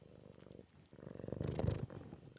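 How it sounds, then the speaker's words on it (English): A soft, close cat purr rumbles steadily in rhythmic pulses, quiet and low throughout with a slight rise near the end. "Can you hear him purring?"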